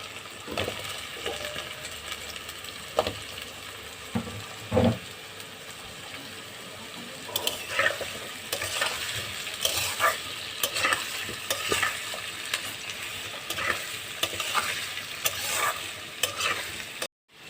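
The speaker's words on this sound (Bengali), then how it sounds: "একসঙ্গে পেঁয়াজও ভাজা হবে, আলুটাও ভাজা হবে।" Onion and potato pieces fry together in an oiled pan, stirred now and then, with a steady close sizzle broken by clattering stirs and scrapes throughout.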